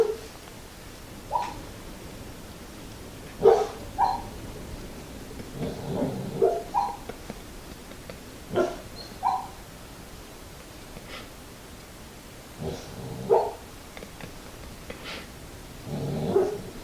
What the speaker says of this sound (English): My dog is having a dream.